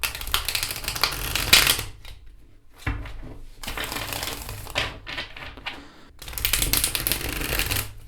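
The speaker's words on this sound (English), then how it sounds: "now I'm going to show you how the riffle shuffles" Two bursts of rapid, crisp card riffling, each a fluttering rush of flicking cards, with brief quieter handling in between; close and fairly loud.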